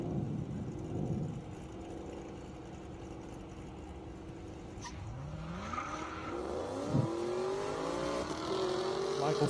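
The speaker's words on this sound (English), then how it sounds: "Cars making their way down to the grid area." Race cars at an airstrip drag race roll down toward the grid area, engines droning and revving with rising and falling pitch as they pass, while a voice talks over the noise.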